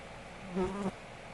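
A fly buzzes close by, a single short droning pass that swells and fades within about a second.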